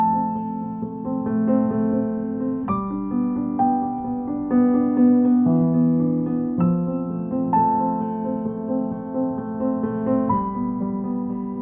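Solo piano plays the main melody with no chords added, a gentle, steady line of notes over sustained low tones, moderately loud and with no talking.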